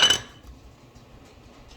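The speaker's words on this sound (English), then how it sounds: "what you just heard was my butter dish getting dropped a little bit" A butter dish clatters once sharply with a bright clink at the start, then fades quickly into quiet kitchen background.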